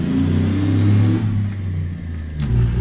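A truck engine in American Truck Simulator idles down after revving, giving a low, steady rumble up close with a slight dip in pitch, and no talk over it.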